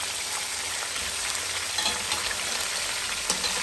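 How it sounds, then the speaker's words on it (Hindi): Chicken pieces fry over high heat in hot ghee for a karahi, giving a dense, even crackling sizzle that stays steady and fairly loud, with a few brighter pops and no talk. "4-5 मिनट तक इसको हमने तेज आंच पर फ्राई करना है"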